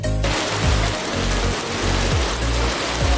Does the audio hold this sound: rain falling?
yes